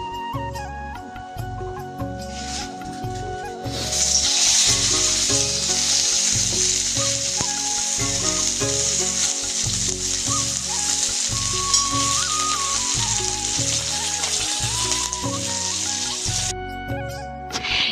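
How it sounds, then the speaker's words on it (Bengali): Mixed vegetables hit hot oil and fry with a loud, steady sizzle that swells suddenly and keeps crackling for several seconds, with background music underneath. "তো বন্ধুরা এখন আমি সবজিটা বসিয়ে দেবো"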